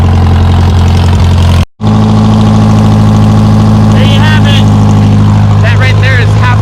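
A 1957 Volkswagen Roadster engine idles loudly and steadily as it warms up, a deep, even rumble that drops out for a moment and then resumes, with someone talking over it.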